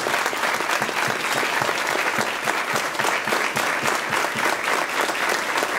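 At a The Last of Us fan event conference in Argentina, the audience gives Gustavo Santaolalla a warm welcome with steady, full applause. Many hands clap continuously at an even level throughout, with no speech over it.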